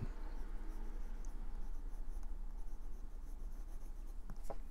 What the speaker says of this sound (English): this is a double broad nib. So it's writing fairly well on this this Rhodia paper